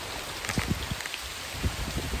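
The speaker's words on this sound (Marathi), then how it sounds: "पाऊस झाडावरनं पण आता जोरात जोरात यायला लागला आहे" Heavy rain drips and patters down from a tree, a dense hiss of falling water with scattered heavier drops thudding close by.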